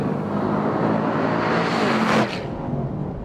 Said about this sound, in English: What's great about the SS is the engine note.